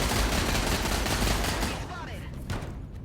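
Dense, sustained gunfire from a tactical video game, a loud continuous burst of shots filling the first half before thinning into scattered fainter shots amid background game noise.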